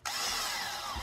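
A power drill bores holes into a Safariland holster, a steady high whine lasting about a second, close and loud, with no voices.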